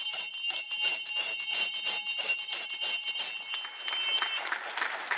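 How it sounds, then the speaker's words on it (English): A bell rung repeatedly to open an environmental science conference in a hall, a sustained bright ringing with rapid strikes, fairly loud and alone, followed by a brief swell of applause at the end. "Normally, we use bells."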